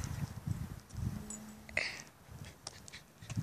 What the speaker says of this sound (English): See that? That's a horse.